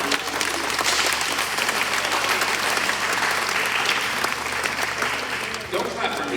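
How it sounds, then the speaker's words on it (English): An audience applauds loudly and continuously, a thick crowd of clapping with voices mixed in beneath it. "Don't clap for me"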